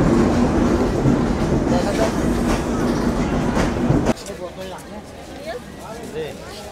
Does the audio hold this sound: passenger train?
yes